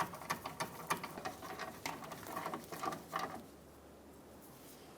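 A ratchet snugs up a bolt on the engine torque strut mount of a 2007-2015 Mazda CX-9, with quick, close clicking patter in bursts over the first three seconds, then a quiet tail.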